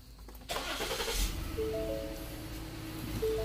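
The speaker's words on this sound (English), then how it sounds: "you can go ahead and crank the car up and let it run" A Ford Explorer that has just had its oil changed cranks and fires up abruptly, then settles into a steady, close idle with a slight rise in engine noise near the end.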